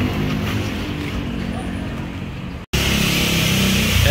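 A Yamaha Mio 3 scooter engine being test run after chassis alignment work, a steady close idling drone that cuts out briefly, then resumes slightly louder and rougher.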